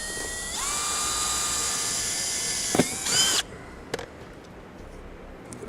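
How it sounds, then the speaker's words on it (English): A 3/4 inch hole saw bores through a body panel on a 2011 Chevrolet HHR, a loud, steady high-pitched whine that drops in pitch under load, then a brief grinding burst as the cut finishes and the tool spins down. "Take a 3/4 inch hole saw and we'll want to cut that out."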